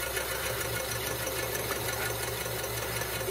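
A Baldor 762 bench grinder runs with its wheel spinning freely, a steady mechanical hum with a low droning tone and faint vibration, continuous and unchanging, close by with no talking.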